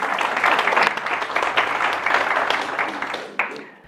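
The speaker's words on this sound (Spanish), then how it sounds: "demos un fuerte aplauso a Said" An audience in a church applauds a volunteer on stage, a dense, steady burst of many hands clapping close by that tapers slightly toward the end, with a final sharper clap.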